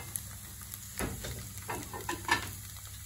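Eggs sizzle steadily in a pan greased with PAM Original cooking spray, a soft continuous frying hiss with a few faint scraping touches, heard up close and without talk.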